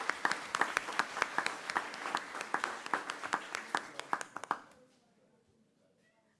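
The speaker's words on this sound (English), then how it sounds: "All right, let's give them one more round of applause." An audience at a county school board meeting claps in a sparse, moderately distant round of applause with distinct individual claps, trailing off after about four and a half seconds into quiet room tone.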